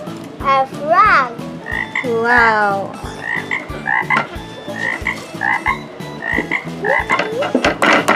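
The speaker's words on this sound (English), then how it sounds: "a frog." Frogs croak loudly and close by in a rapid, pulsing rhythm, with rising chirped calls over the steady croaking and a brief exclaimed word from a child.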